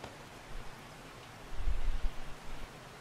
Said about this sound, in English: it always rains here